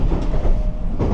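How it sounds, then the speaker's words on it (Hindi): A Japanese high-speed bullet train, running at up to 320 km/h, rolls into a station with a loud, steady rumble and faint wheel clatter, no voices present. "वैसे लास्ट वीडियो में ट्रेन देखी थी ना आपने, वो लोकल ट्रेन, ये वैसी ही है लेकिन उसका एडवांस वर्जन है"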